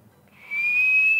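A person whistles one sustained high-pitched note that swells in after a quiet start and holds steadily, close and clear with no other sounds.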